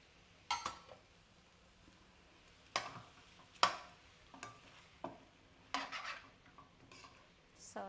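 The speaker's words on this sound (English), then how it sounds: "So just cook it for like 30 seconds with the spring onions" Chow mein noodles stir-frying with spring onions, quiet low sizzle punctuated by about half a dozen sharp spatula scrapes and tosses against the pan at irregular intervals, close and alone.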